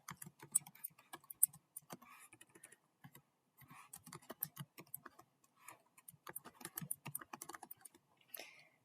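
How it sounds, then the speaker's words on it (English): Fingers type on a computer keyboard in quick, irregular runs of soft, close clicks with short pauses, fairly quiet throughout. "you want to type in the title and a description"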